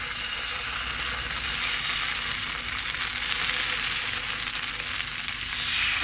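Rice and lentil batter for chakli pitha fries in a pan with a steady, close sizzle that holds evenly throughout, with no talk over it.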